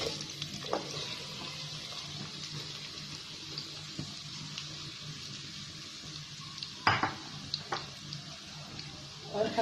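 Chopped onions go into hot oil with whole garam masala and fry with a low, steady sizzle, broken by a few sharper clatters and stirring sounds.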